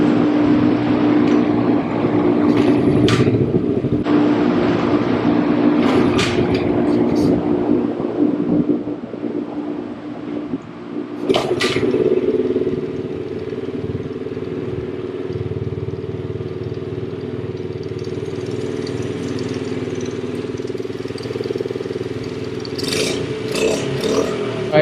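A Honda Z50R minibike's small engine, freshly rebuilt carburetor, idles steadily for about twenty-five seconds, with a few sharp clicks and blips of the throttle early on, nearby and continuous without talk.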